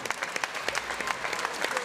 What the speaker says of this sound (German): nochmal einen großen Applaus für beide Fighter